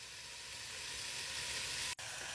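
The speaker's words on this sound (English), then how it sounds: "Once your spices are fried off, you want to add about 1 kilo of lamb." Pieces of lamb leg browning in a hot pan with fried onions and spices, a steady loud sizzle with a brief stir near the end, close up and without talk.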